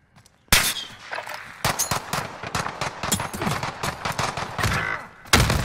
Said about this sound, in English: God damn, I shot that dude like 4 times!